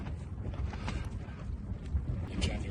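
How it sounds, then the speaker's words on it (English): Steady, noisy wind gusts buffet and flap a large tent's fabric up close on Dartmoor, a continuous low rumble with rustling bursts throughout. "Really windy now, or it feels really windy."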